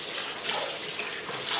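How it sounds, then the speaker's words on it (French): Tap water runs steadily into a sink while seasoned chicken is rinsed to wash off vinegar, a continuous close, loud hiss and splash with no pauses. "Je vais rincer pour enlever le vinaigre."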